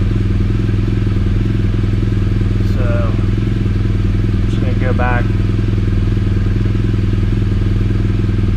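A 2016 BMW R1200GSA motorcycle engine idles steadily, loud and close, with a continuous low rumble while someone speaks briefly over it.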